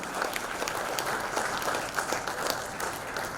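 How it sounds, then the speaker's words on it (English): An audience at a women in supply chain and logistics event gives a speaker a round of applause, dense, steady clapping from many hands spread through the room at moderate loudness. "Can you have a huge round of applause for Geeta?"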